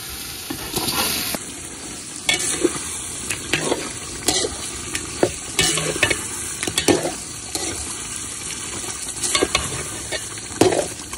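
Marinated chicken sizzles and fries in spiced gravy for restaurant-style chicken dum biryani, a spoon stirring and scraping the pot in repeated bursts over a steady close crackle, with no talking.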